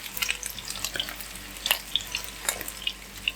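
Breaded meat cutlets frying in a pan give a soft, steady sizzle broken by scattered sharp pops and crackles of spitting oil, close by, with no voices.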